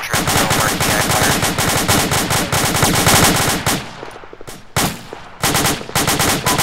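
Infantry gunfire in the military shooter Arma: loud, close bursts of rapid automatic fire and scattered rifle shots rattle almost continuously, thinning briefly before resuming.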